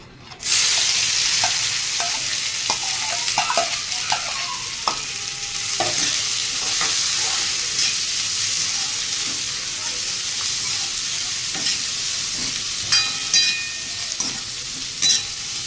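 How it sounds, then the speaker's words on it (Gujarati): Two finely chopped onions frying with asafoetida in a pan over a low flame for paneer curry, a steady close sizzle broken by repeated scraping stirs of a spoon against the pan, with no voices. "ડુંગળી એડ કરી અને આપણે બરાબર મિક્સ કરી લેશું"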